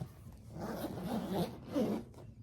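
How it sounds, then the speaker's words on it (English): A zipper runs along the diagonal seam of a box-shaped knitting project bag, a close, scratchy zip in a few quick pulls with a brief pause between them, no voices. "So it zips on the bias."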